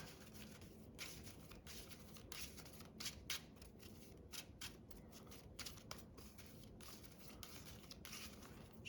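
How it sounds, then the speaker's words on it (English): A Yu-Gi-Oh! extra deck gets shuffled by hand in a run of quick, quiet, crisp riffles and rustles, close and steady, with no voices. "So shuffle up our extra deck."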